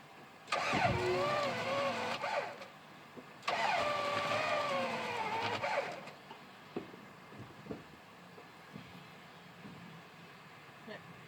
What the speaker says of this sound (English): time to try cranking her on the starter and see how it works.